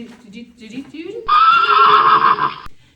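Horse neigh sound effect ringing out loud and clear for about a second and a half, following a stretch of lower, murmuring talk-like sound.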